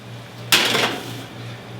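A baking tray of lentil turnovers brushed with melted butter slides into a preheated 350-degree oven, giving a single metallic clatter and scrape that rings briefly over a steady low hum, then fades.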